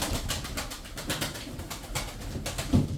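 Tumbler pigeons coo softly and repeatedly in a loft, a low throaty rolling call rising under faint wing flutters and bird movement.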